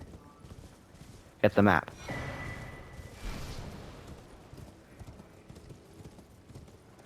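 Horse hooves in the video game Elden Ring: a short, loud burst of clopping steps followed by softer movement and a low rumble, with a voice talking briefly.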